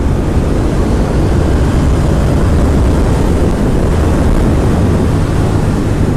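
A 2019 Ducati Diavel 1260S motorcycle ridden fast, heard as a loud, constant roar of engine and rushing wind that stays unbroken throughout, close and overwhelming, with no talking.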